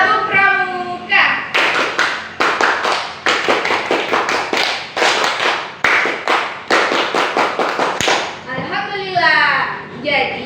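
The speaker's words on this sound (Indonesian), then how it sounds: "Tepuk pramuka." A group of children perform a rhythmic Indonesian scout clap, sharp patterned bursts of hand claps in a quick cadence, with a brief spoken call and chant at the start and end.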